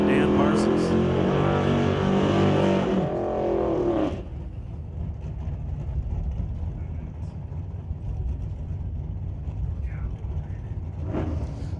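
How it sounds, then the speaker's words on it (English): Drag race cars, a red Nova and a Quality Racing Duster, roar loudly at a strip, their engines revving hard for several seconds before fading into a lower rumble of distant engines and crowd noise. "He's going to dial 1007 in the red Nova. And in the right lane, the Quality Racing Duster, Dan Parsons."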